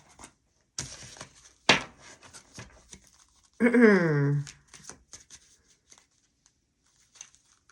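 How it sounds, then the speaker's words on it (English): Tarot cards are shuffled in several brisk riffling bursts, with a person talking in between and over them. "let me shuffle these really quick"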